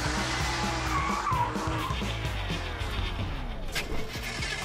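A battery-powered toy race car speeds along, its sound effects giving a loud, continuous revving engine with squealing-tire skids that sweep up and down for several seconds, no voices.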